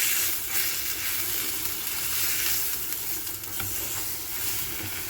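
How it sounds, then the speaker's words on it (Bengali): Raw banana peel paste sizzles in hot oil as it is stirred, giving a constant close frying hiss with occasional scraping from the stirring. "বাটাটাকে আমি একটু তেলের মধ্যে একটুখানি তেলের মধ্যে জাস্ট টুকি করে একটু নেড়ে নেব"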